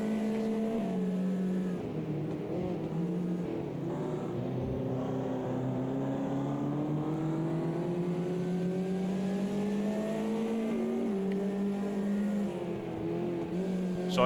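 Race car engine in the Automobilista 2 sim racing game, GT3 or Porsche Cup class, droning steadily with rising and falling pitch as it accelerates and lifts through corners, loud and continuous with no talk.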